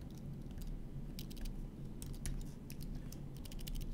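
Quiet keystrokes on a computer keyboard come in short clusters of soft, close clicks against a low background hum.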